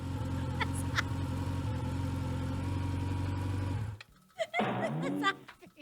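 A delivery rider's motorbike idles close by with a steady buzzing drone, then cuts off abruptly around four seconds in, followed by a few brief scattered noises.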